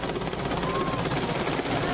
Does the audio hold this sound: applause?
no